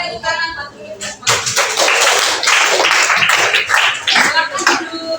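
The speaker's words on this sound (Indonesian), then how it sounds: "tepuk tangan buat kita semua" An audience in a classroom lesson claps hands together in a dense burst of applause lasting several seconds, close and fairly loud, with voices mixed in.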